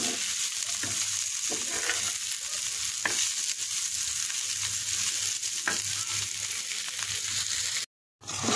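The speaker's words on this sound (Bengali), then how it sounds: "মাংস কষা হয়ে গিয়েছে" Meat being kosha-fried for a curry in a pan at home, with a steady, close sizzle and the scrape of stirring throughout, broken by a brief silent gap near the end.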